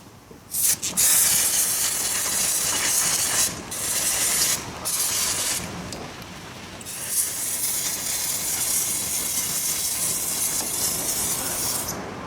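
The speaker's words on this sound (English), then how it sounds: "I'll have a brake clean sprayed everywhere, clean the caliper first" Brake cleaner sprays from an aerosol can onto a Yamaha Banshee brake caliper in loud, sustained hissing bursts, with several short breaks in the first half before a long steady spray runs to the end.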